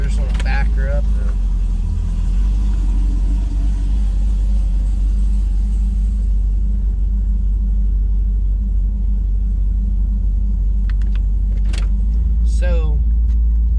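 Supercharged LSA V8 in a Pontiac G8 GT rumbles steadily at idle and low speed while backing up, a loud continuous deep drone under brief bits of talk.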